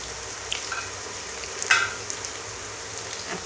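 Chopped onion and chili hitting hot oil while cooking a beef and pointed gourd curry, giving a steady close sizzle with a brief louder crackle burst partway through and no talking.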